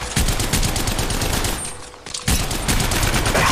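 Heavy, loud enemy gunfire in Apex Legends Mobile rattles in rapid continuous bursts, up close, with a brief lull in the middle before the firing resumes.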